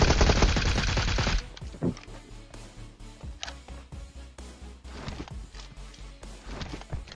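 Shooter video game gunfire: a dense burst of automatic fire at the start, then scattered single shots and short bursts at varying distances, with no talk over them.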